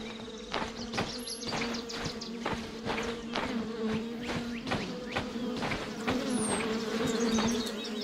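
Bees swarm around hives in a tree in the video game The Vale, a dense continuous buzz with a pulsing rhythm, close and steady for several seconds, with faint bird-like chirps above.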